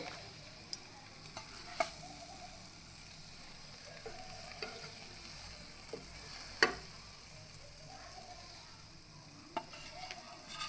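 Potato vada frying in a pan until crisp on both sides, a quiet continuous sizzle punctuated by scattered sharp clicks and taps of a spatula, no speech.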